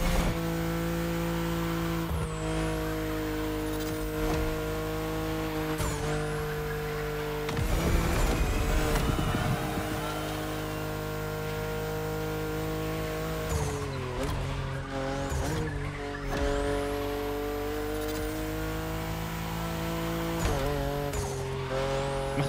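A sports car tuned in Liberty Walk style is driven in The Crew Motorfest, its engine holding a steady loud drone with gear shifts and throttle changes and a brief burst of tire squeal partway through, with no talk.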